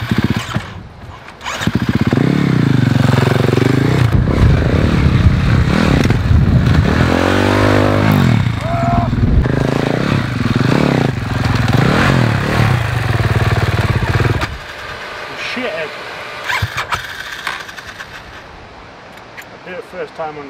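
A 450 enduro motorcycle on hard tyres revs and roars nearby for about fifteen seconds before dropping away, with people talking over and after the engine.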